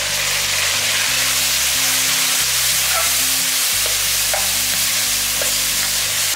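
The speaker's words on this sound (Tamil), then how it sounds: "2 தக்காளி இதில் போட்டுக்கலாம்." Chopped tomatoes and onions frying and being stirred in a pan for Tamil-style fish curry, a steady close sizzle with scraping stir strokes running throughout, no voices.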